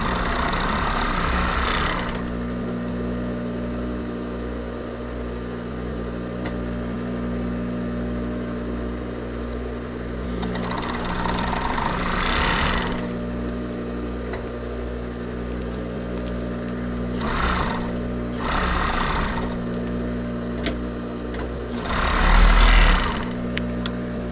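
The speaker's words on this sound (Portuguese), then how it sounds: "Eu já vou passar a minha over unindo ali." An overlock sewing machine joins crocheted fabric in several bursts of fast, whirring stitching separated by pauses, over a steady low motor hum.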